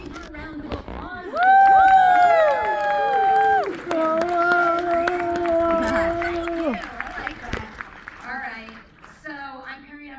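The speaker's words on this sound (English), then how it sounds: "Let's get like a bigger round of applause." A premiere audience cheers loudly with whoops and shouts over scattered clapping, swelling early then tapering as voices take over near the end.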